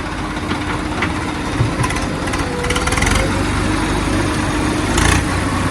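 A new Swaraj tractor engine runs steadily at close range, a loud continuous rumble with slight rises and falls, working on a canal job.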